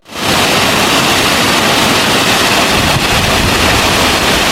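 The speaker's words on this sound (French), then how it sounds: "je pense qu'il y a une cascade." A waterfall pours strongly beside a small footbridge near a lake in the Chaîne des Puys, a dense, steady roar of rushing water that holds at a constant loud level throughout.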